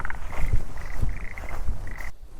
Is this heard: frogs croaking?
yes